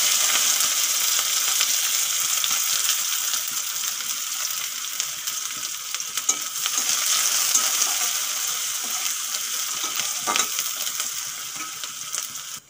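Chopped onions frying in hot oil with whole garam masala and cumin seeds for aloo dum: a steady, loud, close sizzle and crackle, with occasional stirring scrapes and clinks and no talk.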